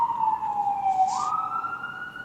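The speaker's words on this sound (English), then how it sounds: "That's what New York City sounds like. Oh, yeah. All sirens, all day." A single emergency vehicle siren wailing on a New York City street, its tone dipping then rising sharply, loud and clear without talk.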